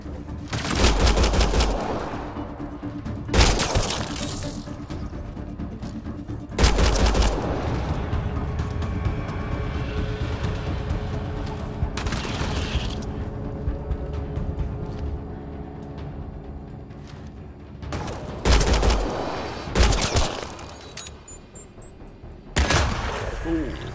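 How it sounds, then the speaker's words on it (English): Mass Effect Andromeda gameplay combat: a heavy explosion erupts amid sustained gunfire bursts, with loud broadband blasts repeating at intervals over continuous rumbling battle noise and occasional character voices. "Something exploded."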